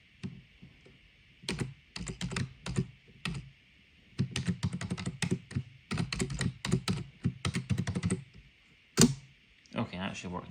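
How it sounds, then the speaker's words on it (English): Administrator password typed on a computer keyboard during a Windows Fundamentals for Legacy PCs setup, heard as bursts of quick, close key clicks with short pauses and a steady hum underneath, ending in a few louder keystrokes. "type a super secure administrator password"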